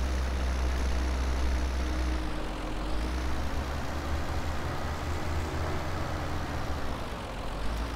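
An old farm tractor engine drones steadily close by, a loud low rumble with a faintly shifting pitch and no talk over it.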